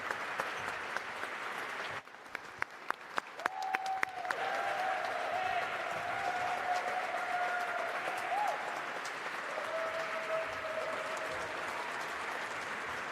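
Applause at the United Nations for the Artemis II astronauts at a panel event: a steady wash of clapping fills the room, starting with a few sharp claps and then swelling into sustained, moderately loud applause, with a faint whistle-like tone threading through.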